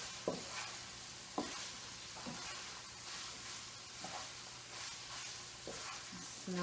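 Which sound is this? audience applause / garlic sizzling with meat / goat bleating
garlic sizzling with meat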